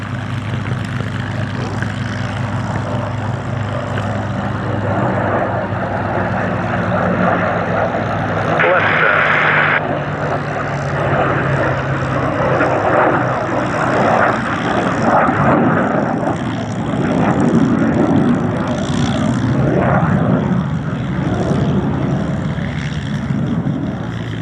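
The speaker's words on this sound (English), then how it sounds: "we have the F-35A with the US Air Force, the F-35B, which is flown by the Royal Air Force and the Royal Navy" F-35 fighter jets at the Sywell Airshow in England produce a broad, sustained roar that swells and fades across the sky, heard under a commentator speaking throughout.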